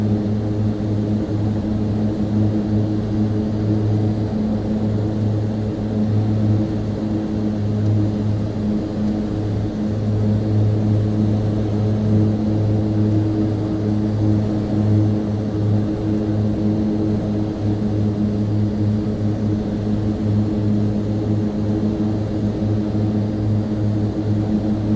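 An ATR 72-600 turboprop at full throttle in Microsoft Flight Simulator 2024 drones steadily, with a loud, constant propeller hum and low engine tone holding unchanged throughout with no voices.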